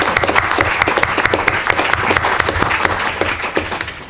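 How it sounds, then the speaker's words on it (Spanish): An audience at a book presentation in a botanical garden breaks into sustained applause, dense and steady clapping from a roomful of people heard close up throughout. "yo creo que se merece un aplauso para ella desde aquí"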